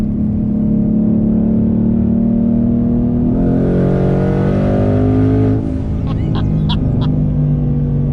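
A twin-turbo daily-driven car pulls at half throttle after a downshift. The engine note climbs steadily and loud, then a brief lift brings faint whooshing turbo chatter before the drone carries on.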